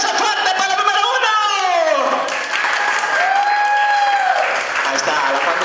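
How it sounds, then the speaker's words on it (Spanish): Guests at a birthday party applaud with steady clapping that mixes with cheering voices and chatter, sustained for several seconds. "aplauso fuerte para el número uno"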